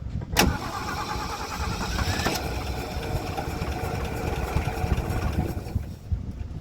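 A Ford Ranchero engine cranks, catches and settles into a steady, rough idle that never climbs into revs, heard close and loud with no talking.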